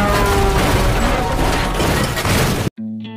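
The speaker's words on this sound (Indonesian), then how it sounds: "Baku tembak jalanan pun terjadi." Dense, continuous burst of loud gunfire and crashing impacts in a film street shootout, roaring for nearly three seconds before cutting abruptly to a short, quieter tonal passage.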